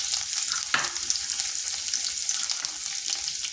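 Chopped garlic frying in hot oil with cumin seeds, a steady close sizzle with a brief louder crackle as the garlic goes in, no voices.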